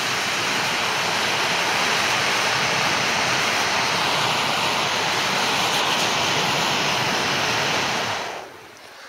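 An MSR Pocket Rocket camp stove turned up to full flame in cold outdoor conditions gives a loud, steady broadband roar close by, holding constant for about eight seconds before cutting down sharply at the end.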